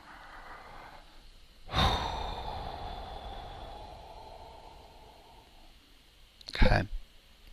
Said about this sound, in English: to a really slow breath.